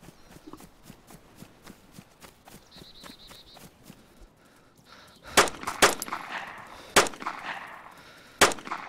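Gunfire in the DayZ survival shooter, a handful of sharp, widely spaced shots cracking out in the second half after quieter footstep-like clicks, loud and close with no speech.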